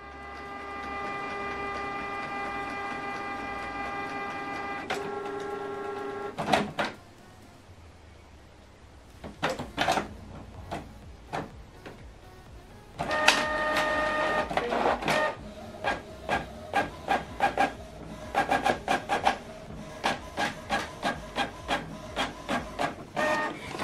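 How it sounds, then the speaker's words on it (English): A Canon PIXMA MG3600 all-in-one printer runs a single-page black print job: a steady motor whine with tonal hum, then a brief pause, then a long run of rapid, regular mechanical clicks and feed clatter, close and fairly loud with no talk. "So this is the document we printed out black, and printing is completed."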